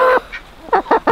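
Chickens call up close in short, loud squawking honks, one at the start and a quick burst of three near the end, with quiet gaps between.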